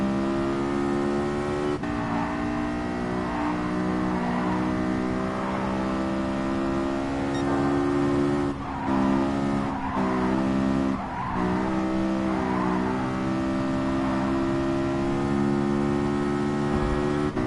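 Race car engines drone steadily in a Gran Turismo sport race, a continuous loud whine with shifting pitch and bursts of tire squeal midway, no talking.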